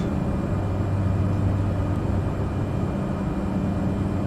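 Cessna 208B Grand Caravan turboprop climbing out in Microsoft Flight Simulator 2020, a loud, steady, broadband engine and propeller drone with a low hum, unbroken and alone.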